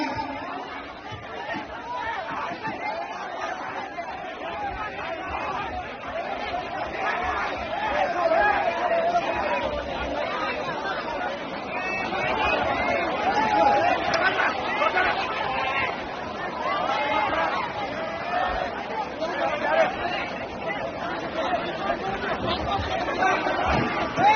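A dense, unruly crowd at a Radha Patil dance show in Pandharpur taluka fills the air with constant loud chatter and shouting, a steady babble of many voices that rises and falls.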